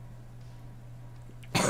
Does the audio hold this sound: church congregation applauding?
no